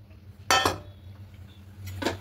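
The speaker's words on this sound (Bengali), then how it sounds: "এদিকে একটা কড়াই বসিয়েছি, কড়াই সোনা মুগ ডালটা দিয়ে দেবো" Golden moong dal going into a kadai for dry roasting, heard as two sharp metallic clatters close together, then a quieter pause and another clink of a utensil against the pan.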